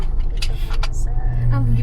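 Busy road traffic approaching downtown San Francisco, car engines rumbling and passing close by in a steady low drone, with voices talking over it.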